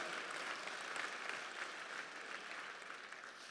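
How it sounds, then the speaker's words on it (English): Audience at a business hall of fame gala applauding, a dense, even patter of many hands clapping at moderate distance, fading slightly toward the end. "Now you can give them a round of applause."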